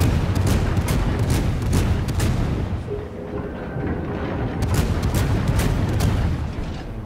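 Naval guns fire during a World of Warships battle, with dense, booming, rumbling blasts and crackling bursts layered over continuous heavy combat noise that barely lets up.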